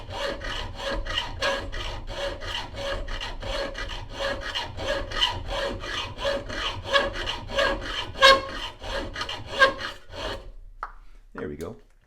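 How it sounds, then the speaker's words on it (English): A high tensile strength hand hacksaw cuts through the head of a shotgun barrel on an old Iver Johnson .410, with about twenty steady back-and-forth rasping strokes, close and even, ending with a few light clinks. "I am going to take my high tensile strength hacksaw, and we're just going to cut the head of this off"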